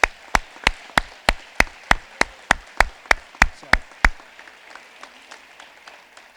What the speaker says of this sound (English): could we please give a round of applause to the WEF Educational Foundation organizers?